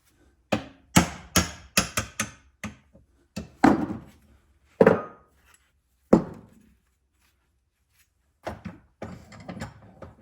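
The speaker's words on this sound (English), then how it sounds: "I'm gonna grab a brass punch so I don't wreck those threads." A brass punch struck repeatedly to drive a part out of a Craftsman garden tractor, giving a burst of sharp close metallic taps, a few heavier knocks, then a pause and softer taps.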